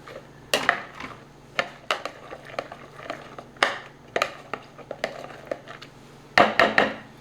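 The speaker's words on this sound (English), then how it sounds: "The next thing we're going to do now is mix 1 cup of chopped pecans" Chopped pecans being mixed into whipped cream in a bowl, heard as a series of irregular clacks and knocks from a utensil against the bowl, close and fairly loud, with quieter scraping between strikes.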